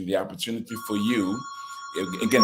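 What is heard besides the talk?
telephone ringing in an office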